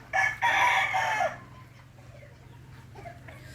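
A gamefowl rooster lets out one loud, close crow lasting about a second, followed by a low steady hum and a few faint, scattered clucks.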